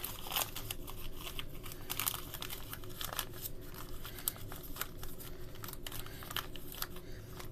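Newspaper is folded and creased into a small transplant pot, giving close, quick crinkling and rustling with short crisp snaps, steady throughout with no voice.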